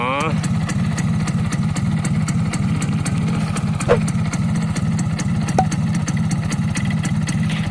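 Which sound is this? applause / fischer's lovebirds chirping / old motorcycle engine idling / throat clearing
old motorcycle engine idling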